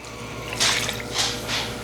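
Water poured from a measuring cup into ground summer sausage meat in a few short splashing pours, close and moderately loud over a steady background hum.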